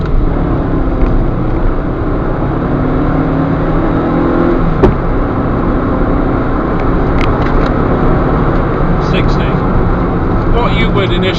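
A small Peugeot car accelerates hard during a 0 to 60 run, a steady loud engine roar with wind and road noise filling the whole stretch, no talking.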